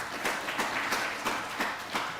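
Audience applause at a senatorial debate at a university, heard as a thin, rhythmic clapping with about seven evenly spaced beats over a light, steady wash of background noise.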